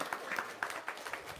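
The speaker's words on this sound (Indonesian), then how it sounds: "Wow, tepuk tangan dong." Scattered clapping from a small audience at an Indonesian Idul Fitri gathering, a faint, sparse patter of a few hands with irregular sharp claps close by.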